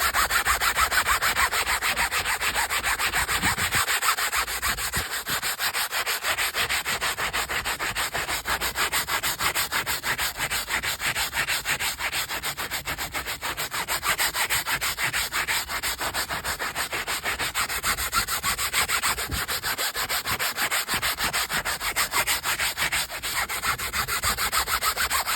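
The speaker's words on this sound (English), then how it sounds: "So take the brush, give it a scrub." A brush scrubbing car seat fabric, steady rapid back-and-forth rasping that continues unbroken for the whole stretch, close and even in loudness, with no voices.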